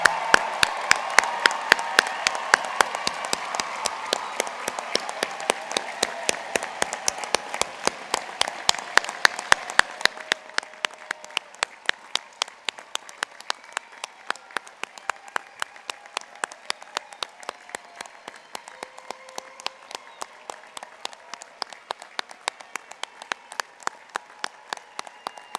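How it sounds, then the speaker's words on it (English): Graduates at a 2018 American Public University System commencement receive a long round of applause from the audience. It starts as a full, dense crowd ovation and thins over time into a steady, rhythmic unison clapping that continues to the end. "please join me in a big round of applause for our graduates"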